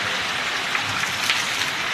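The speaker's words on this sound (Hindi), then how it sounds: "देखो बारिश कैसे पड़ रही है" Heavy rain falls in Narayanpur village, Bihar, a dense, steady hiss of drops on surfaces with a few sharper close splashes, no voices.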